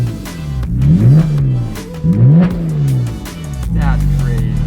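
A Porsche Cayman S engine with straight-piped exhaust revs up and down repeatedly in loud, rising-and-falling sweeps, with a harsh raspy exhaust tone throughout.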